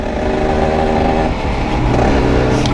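A Cagiva Mito 125 motorcycle engine drones loud and close while being ridden, holding a steady revving pitch with a slight rise near the end and no speech over it.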